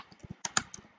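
Rapid keystrokes typed on a computer keyboard while entering a document title, a quick uneven run of close, crisp clicks with no talking.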